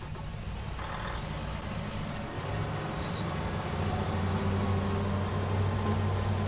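A heavy vehicle drives along in the farming game Irgendwo in Thüringen, giving a steady, loud low engine rumble that builds slightly, with no talk.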